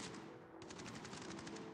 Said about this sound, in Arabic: اديله طلقة رهيبة جدا